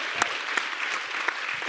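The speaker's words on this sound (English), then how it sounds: "we can give a round of applause for that" Light applause from a small audience at a live conversation event, a short thin patter of clapping with a few sharper individual claps standing out.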